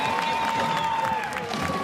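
A crowd along a St Patrick's Day parade route in Dublin cheers and claps for a passing band, a steady wash of applause and voices held at a moderate distance throughout.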